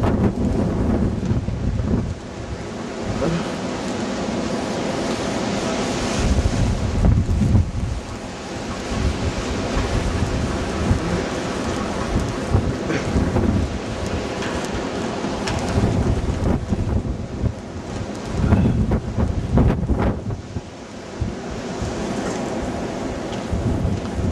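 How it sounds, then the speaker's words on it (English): Strong wind gusts roar during a winter storm, a loud, sustained buffeting rush with surging peaks, broadband and close to the microphone throughout. "we just had a 49 mile, while I was out there, 49 mile an hour wind gust."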